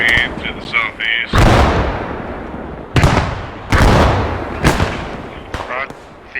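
Gunfire in the PostScriptum combat game during an urban night fight, French versus German: several loud, sharp shots with reverberant tails in an irregular rhythm, a burst of rapid fire at the start, with a voice talking between shots.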